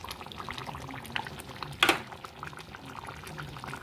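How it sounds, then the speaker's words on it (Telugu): Tamarind juice poured into a taro root curry, a soft liquid pour with bubbling and one brief louder splash near the middle, fairly quiet and close. "ఇప్పుడు చింతపండు పులుసు వేసుకున్నామండి"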